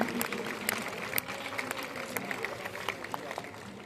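Scattered audience clapping for a newly married couple at the Ganga Aarti gathering in Rishikesh, a crowd of many hands patting irregularly at moderate volume for several seconds, fairly close, with no voices over it.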